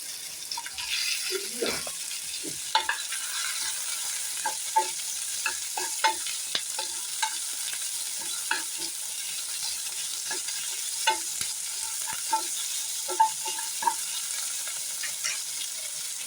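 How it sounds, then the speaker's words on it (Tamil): Tomatoes frying in a pan as the base for a mushroom paneer pepper gravy: a continuous sizzle throughout, broken by repeated light taps and scrapes of a spatula stirring against the pan. "இதிலே நம்ம இப்போ தக்காளி போட்டுருவோம்."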